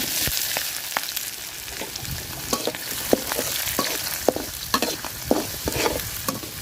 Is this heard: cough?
no